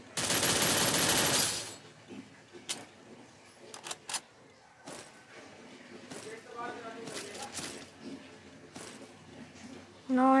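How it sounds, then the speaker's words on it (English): Rapid MP5 submachine gun fire in a video game rattles loud for under two seconds, followed by quieter game sounds, scattered shots and clicks. "Rate of fire MP5 is very nice."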